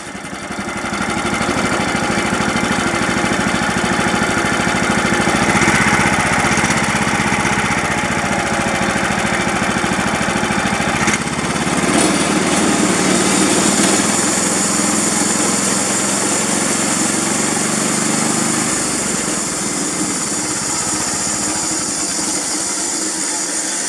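A Briggs & Stratton small engine with magnetron ignition on a Frontier mill catches, then runs at a steady, loud buzzing idle close by for over twenty seconds, its pitch shifting slightly midway.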